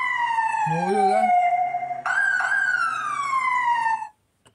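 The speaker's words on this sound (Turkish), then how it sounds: "Kırmızı alarm, dalgalı siren sesi." Rising and falling wavering air-raid alarm siren sound effect, loud and close, sweeping up and gliding down in tone over several seconds before cutting off abruptly into silence.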